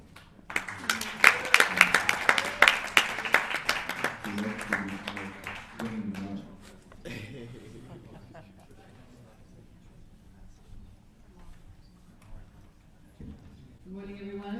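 Conference audience applauding in a hall, a dense burst of clapping that swells loudly in the first seconds and then fades, with voices murmuring and speaking underneath as it dies away.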